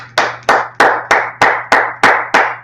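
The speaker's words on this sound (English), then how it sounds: "Let's clap it up." Audience clapping in unison at a brotherhood class gathering: eight slow, evenly spaced claps, loud and close, with a low steady hum underneath and no voices.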